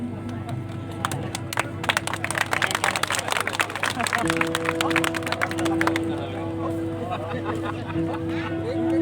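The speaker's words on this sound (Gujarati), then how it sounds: "બે ચાર તાળીઓ માટે ધન્યવાદ" An audience at a live Gujarati folk dayro claps in a scattered burst of sharp hand claps that thins out, with crowd murmur and a sustained musical tone underneath.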